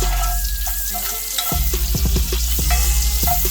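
Mushrooms fry in bacon fat for an Irish breakfast: a steady, close sizzle with several sharp clatters and stirring knocks in the second half, no talking.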